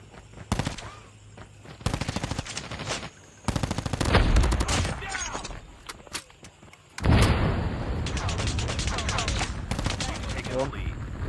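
Video game gunfire in a shooter match: rapid automatic bursts with pauses between, then sustained loud firing and booms, close and dense.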